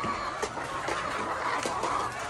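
A crowd of RTL chickens clucks and squawks in a noisy, agitated jumble, close by and continuous, with no talk over it.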